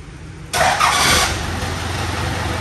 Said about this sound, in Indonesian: Nyalain ayo truk yo.